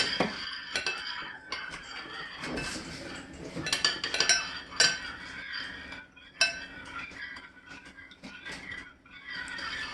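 A spoon stirs and clinks against a container while homemade hand sanitizer with aloe vera and rosemary is mixed, giving irregular scraping taps and light chinks at close range, with brief quiet gaps between strokes.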